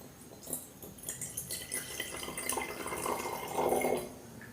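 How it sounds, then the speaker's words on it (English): Water poured from a measuring jar into differently shaped containers in a classroom science demonstration, with splashing, trickling pours and faint clinks rising to a louder gush near the end, no voices over it. "I am transferring this water into different shape of containers one by one."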